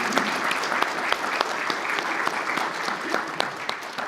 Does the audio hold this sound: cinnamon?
no